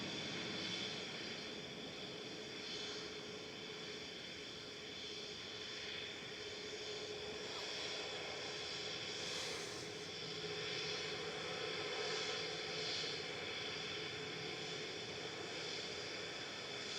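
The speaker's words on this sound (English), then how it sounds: "Dreammaker's taxiing out as well, Tui C" A TUI Boeing 787 Dreamliner taxis at Manchester Airport, its engines giving a steady, moderately distant whine and broadband roar that hold evenly throughout with slight swells, no voices over it.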